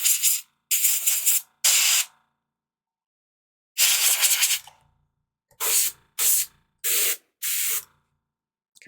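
Airbrush spraying primer onto miniatures through a thin nozzle: a series of short, sharp hissing bursts of varying length separated by silence, close to the microphone.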